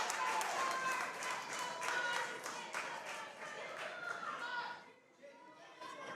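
A wrestling crowd at a championship match chants and claps in rhythm, a steady sea of voices with regular hand claps, dipping briefly near the end, while a commentator talks over it.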